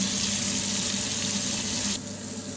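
Steady, close sizzling of frozen smoked fish (tinapa) frying in a hot pan, a continuous hiss that eases slightly toward the end.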